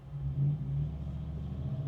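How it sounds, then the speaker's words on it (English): A flex-fuel gasoline truck engine gives a brief, steady low rumble, heard close by. "Flex fuel, it's a gasoline truck."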